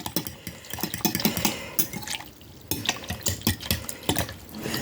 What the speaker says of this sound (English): all I'm going to do with the cool water and the gravy mix is just whisk them together